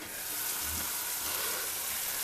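Curry leaves sizzling in a pan over low heat while making a spicy Telangana-style tomato chutney, a steady faint crackling fry with no voices.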